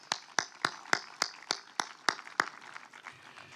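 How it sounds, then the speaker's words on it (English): Nine separate hand claps ring out at a reception, evenly spaced at about one every third of a second and moderately loud, then trail off into quiet murmuring. "we should give a round of applause to all those who were responsible"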